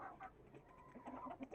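Hens cluck softly and intermittently in a quiet outdoor coop area, a few faint, scattered calls heard at a distance with no talking over them.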